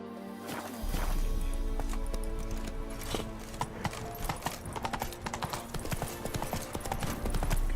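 Hooves of the horse Roach in The Witcher 3, a rapid, continuous clip-clop of galloping close by over a steady game background.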